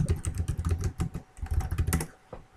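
Rapid keystrokes on a computer keyboard as payment details are entered, a dense, uneven run of close clicks and taps lasting a couple of seconds with a brief pause near the end.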